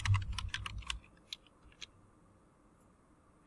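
Typing on a computer keyboard while searching for RStudio on a Windows PC: a quick, close burst of clicking keystrokes for about a second, then a few sparse, quieter key taps.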